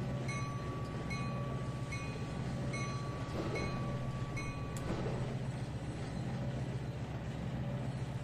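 Train shunting in a rail yard in the simulator Trainz 2019: a steady low rumble of rolling railcars with faint repeating clicks and a brief metallic clank near the middle, continuous and fairly close, with no talking.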